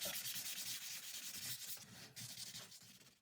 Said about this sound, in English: And then I go back and sand everything by hand.